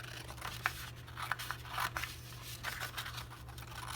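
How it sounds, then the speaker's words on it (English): Small scissors snipping through paper along a fold line for a journal craft, a series of soft, close crunchy cuts spaced irregularly over a low steady hum. "Should have used my bigger scissors,"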